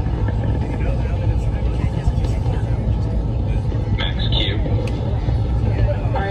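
Falcon Heavy rocket engines rumbling in flight during a foggy launch, a steady deep roar filling the low end throughout, with a crowd and announcer talking over it.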